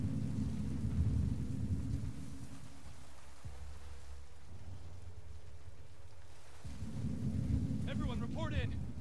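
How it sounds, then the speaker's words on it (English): Video game rain in The Last of Us Part II: steady rumbling rain with low thunder rolling through, a brief quieter stretch midway, then the downpour swells again with a faint high chirping near the end. "I guess it's raining"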